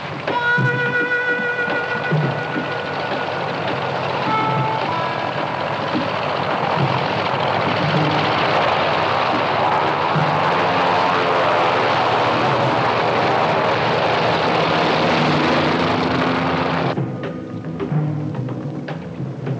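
A helicopter in flight carrying passengers on a long trip in a 1971 heist film, its engine and rotor giving a loud, steady, continuous roar that holds throughout before easing slightly near the end.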